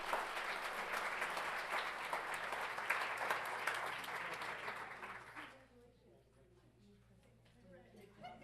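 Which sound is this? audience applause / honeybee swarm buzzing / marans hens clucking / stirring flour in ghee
audience applause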